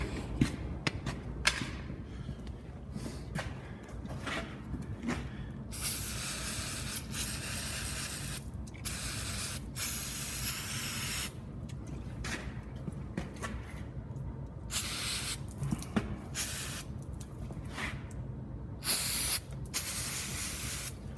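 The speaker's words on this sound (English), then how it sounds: "come in and grab a can of brake clean, give her a little shake." Aerosol brake cleaner sprayed in repeated bursts of hiss onto the front driveshaft yoke and U-joint area of a John Deere 310D backhoe, some bursts long and others short, with handling noises between.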